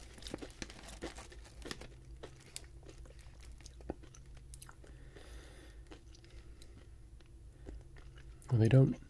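Crunchy rolled green spicy snack chips, shaped like rolled tortilla chips, are bitten and chewed in one loud, close burst of crunching near the end, after a long stretch of faint rustling and handling.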